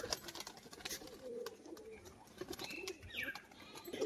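Soft, low cooing from a female flying pigeon runs through the background, faint and repeated amid light rustling and a few sharp chirps.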